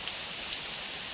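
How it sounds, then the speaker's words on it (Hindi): Heavy rain pours down in a steady, dense hiss with no breaks, heard at a fairly low level with no voices. "बारिश तो खूब ज़ोर से हो रही है"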